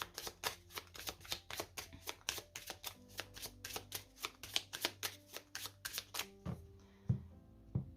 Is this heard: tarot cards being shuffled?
yes